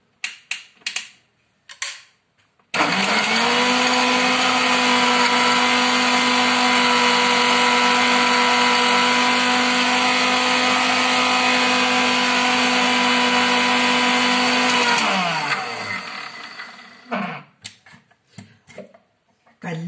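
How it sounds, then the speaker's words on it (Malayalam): An electric mixer grinder blending ingredients with a little salt, a loud, steady whirring motor that runs continuously for about twelve seconds and then winds down, with brief clatter before and after. "ഇനി മിക്സിയിൽ അടിച്ചെടുക്കാം നമുക്ക് നല്ലതായിട്ട്"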